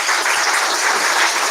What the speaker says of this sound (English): Can we have a round of applause for our panelists one more time?